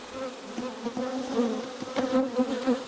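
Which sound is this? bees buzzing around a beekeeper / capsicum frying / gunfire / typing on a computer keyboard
bees buzzing around a beekeeper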